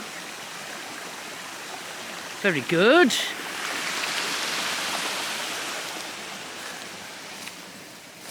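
A river in Portuguese woods rushes steadily, a broad even wash of water noise throughout, with a brief spoken remark and a short warbling whistle early on.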